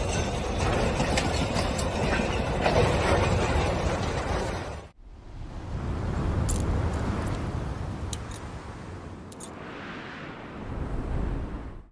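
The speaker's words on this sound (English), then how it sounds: "A train derails after striking debris on the tracks." A train derailing after striking debris on the tracks: a loud sustained rumble and grinding roar, cut abruptly around five seconds, then resuming as heavy rumbling with hissing and scraping bursts.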